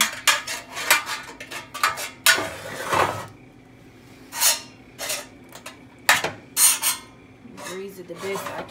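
A metal baking pan rubbed with butter, with scattered close scraping and rubbing strokes and the clatter of the pan being handled, broken by quiet gaps.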